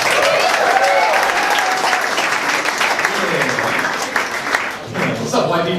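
A stand-up comedy audience in San Diego claps and cheers for a comedian with dense, sustained applause that fades slightly near the end, with a voice speaking faintly over it.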